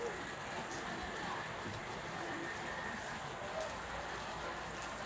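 Steady rain falls on surfaces outdoors near a pigeon coop, making a constant, even hiss that stays close and moderately loud throughout with no clear speech.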